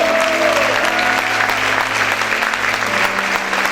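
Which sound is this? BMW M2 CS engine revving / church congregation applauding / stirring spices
church congregation applauding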